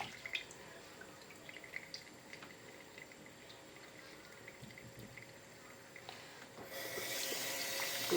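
Tap water runs over peeled dried lentils being washed in a kitchen, a faint, steady trickle that swells into a louder, fuller stream during the last seconds.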